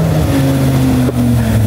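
An expensive car drives through a curve, its engine holding a loud, steady drone with a brief shift in tone partway through, heard close and without talk.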